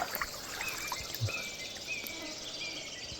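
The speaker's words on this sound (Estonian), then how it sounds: "jõe või metsritsiklind, mis ta oli, teeb ritsika häält" River or wood warbler (Locustella) delivering its dry, cricket-like reeling song near a forest stream, a faint continuous buzzy trill over soft trickling water and background ambience.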